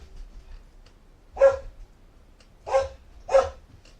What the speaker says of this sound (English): My dog must have seen a butterfly.